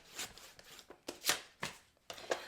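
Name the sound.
cutting card stock for a note card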